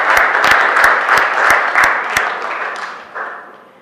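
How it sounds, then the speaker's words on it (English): Parliament audience at a 2018 youth parliament session gives a round of applause, loud, with sharp individual claps standing out over a dense wash that gradually tapers off. "Can you give her a round of applause?"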